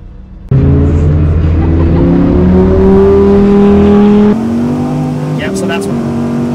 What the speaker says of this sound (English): Number 6, racing an Audi R8 V10.